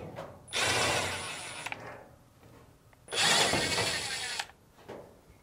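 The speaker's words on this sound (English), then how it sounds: "we'll remove the two Phillips screws securing the front panel" Two bursts of a power screwdriver backing out Phillips screws from the front panel of a Fisher & Paykel dryer, each whirring run lasting about a second, close and fairly loud with a quiet gap between.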